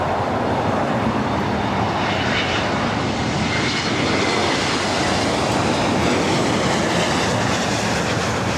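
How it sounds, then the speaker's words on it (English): A Delta Airbus A321neo arriving at LAX roars past with a loud, continuous broadband jet rush that holds steady and strong throughout, with no other sounds standing out. "We have another arrival. Looks like a Delta A321neo."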